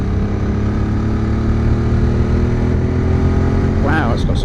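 QJ Motor adventure motorcycle engine accelerating under way, a loud steady engine drone with rising harmonics that mixes with wind rush, and a brief voice near the end.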